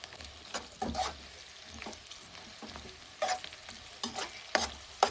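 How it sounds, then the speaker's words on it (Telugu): Onions and chana dal frying in a pan for carrot rice, with a steady sizzle broken by repeated scraping stirs of a spoon against the pan, close and moderately loud, no voices. "దాని తర్వాత ఉల్లిగడ్డలు, కొన్ని శనగపప్పులు కూడా వేసుకోవాలి టేస్ట్ కోసం."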